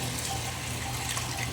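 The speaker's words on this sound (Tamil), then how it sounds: "ரொம்ப இப்போ தண்ணி ஊற்றிடுறேன்." Water pours steadily into a cooking pot of mutton for biryani, a continuous splashing, gurgling rush heard close and alone for a brief moment.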